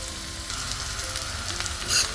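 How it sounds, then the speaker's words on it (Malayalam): Green beans sautéing in a hot pan, a steady close sizzle and crackle with a brief louder hiss near the end, no voices. "ഒന്ന് വഴറ്റും അതിനുശേഷം അതിനകത്തേക്ക് ബീൻസ് ഇട്ട് കൊടുക്കാം"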